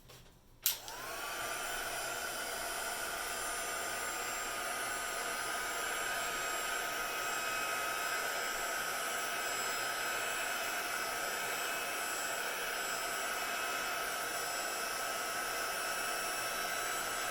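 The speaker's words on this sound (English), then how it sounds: "I'm going to give it a quick dry off though." A heat tool blasts a steady loud whoosh of hot air to dry a craft page embellishment, switching on abruptly with a click and then running continuously close by.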